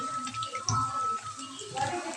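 Cut brinjal (eggplant) pieces are washed in water, giving soft sloshing and splashing with a couple of clearer splashes, fairly quiet and close, with no speech.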